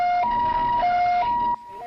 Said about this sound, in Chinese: 救护车赶到车祸现场